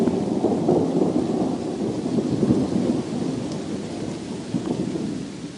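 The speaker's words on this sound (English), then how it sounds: "It's absolutely pouring out there. I'm trying to hide under a big pine tree as a thunderstorm goes past." A thunderstorm with heavy, pouring rain, heard from shelter beneath a big pine tree; a steady dense roar of rainfall with low rumbling thunder runs throughout, loud and continuous with no voices.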